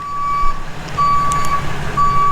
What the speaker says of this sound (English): Sorry about the noise. I got a tow truck coming in.